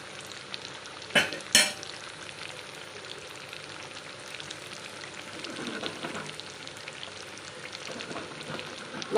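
Fish kebab pieces fry in oil on a flat dosa pan, giving a close, steady sizzle with a couple of sharp crackling pops early on and light spattering bursts later.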